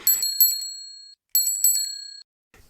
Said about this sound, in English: Peppa rings her bell. Ding ding.